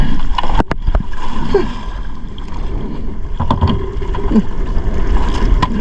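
An outboard-type boat engine at sea on a spearfishing trip starts and runs, chugging with sharp knocks and splashy clatter up close, with faint voices in the background.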